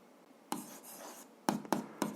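A pen writes an equation by hand on paper. Four short, close taps and scratches sound against a quiet room hiss: one single stroke, then three more in quick succession near the end.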